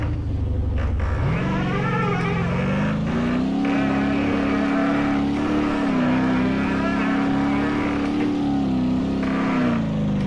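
A timber lorry grinds along in first gear on a forest track, its engine a steady, loud, labouring drone with slight rises in pitch, continuous and close throughout.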